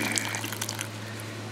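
Water poured or running from a tap for a tarantula's enclosure, a steady close-up splashing and trickling wash heard alone over a low electrical hum.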